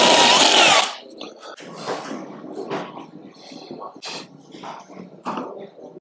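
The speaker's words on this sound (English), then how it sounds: "So it wants me to drill this hole out as well to position a riv nut" A power drill bores out a hole for a rivnut while fitting a raised air intake on a Land Rover Discovery 3 or 4. It gives one loud, close whine of under a second, then someone talks over light handling noises.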